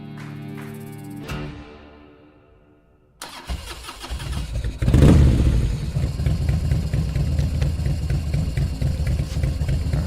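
An Indian Chieftain PowerPlus 112 motorcycle engine turns over, fires up with a loud rising roar, then settles into a steady, throaty idle heard up close, with a faint earlier mechanical whir before the start.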